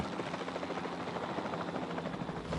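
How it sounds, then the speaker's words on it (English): Helicopter rotor noise from the video game Jurassic World Evolution 2, a steady, loud, close whirring drone that keeps going without a break and has no voices over it. "The helicopter was really hard to use, in my opinion."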